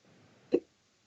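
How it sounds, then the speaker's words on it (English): A single short hiccup, close and fairly loud, pops up once in an otherwise quiet moment, with a faint hiss of room noise before it and silence after. "Ooh, I got the hiccups"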